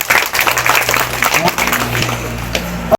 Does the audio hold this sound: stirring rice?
no